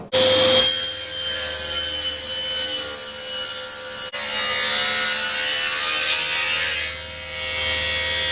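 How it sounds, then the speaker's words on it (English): Hand saw ripping strips from a wooden block for a wooden khopesh, a steady, close rasping stroke that runs almost without pause, briefly stopping and shifting pitch midway. "So I'll clean up this block a bit and then rip some strips off it."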